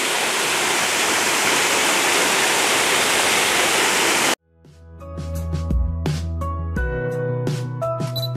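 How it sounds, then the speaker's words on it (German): Josefsthaler waterfall near Schliersee/Tegernsee plunging into the depth, a loud steady broadband roar that cuts off abruptly halfway through, followed by louder tonal sounds with no water noise. "schön, wie der so in die Tiefe stürzt."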